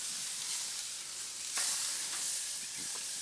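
Food sizzles steadily on a hot Komodo Kamado grill grate as it is rotated for crosshatch marks, a continuous bright hiss with a couple of soft scraping bumps and no talking.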